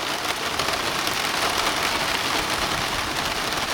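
Heavy rain pours steadily outdoors over a no-till brassica food plot, a dense, constant hiss with no pauses, loud and close throughout.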